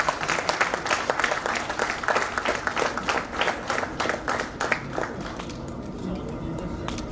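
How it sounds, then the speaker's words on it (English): A crowd at a human resources network chapter event in Surat gives a round of applause, dense clapping that holds steady and then thins and fades toward the end. "Please, big round of applause."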